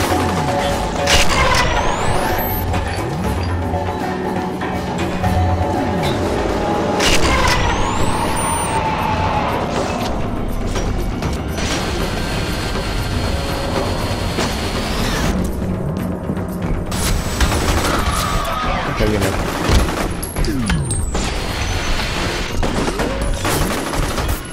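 Dense, continuous gunfire from the video game F.E.A.R. Extraction Point: rapid automatic bursts and heavy booming shots fill the whole stretch at steady high loudness, with no pauses.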